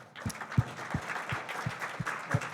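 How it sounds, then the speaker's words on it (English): A sparse workshop audience claps for its speakers, giving evenly spaced, fairly quiet hand claps in a short run. "let's have another round of applause for our speakers"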